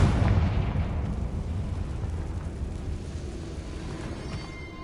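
A Confringo fire spell explodes in the Hogwarts Legacy video game: a sudden loud boom followed by a long, rumbling, crackling decay that slowly fades over several seconds.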